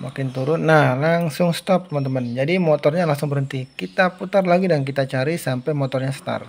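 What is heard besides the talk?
No everyday noise stands out behind the speech.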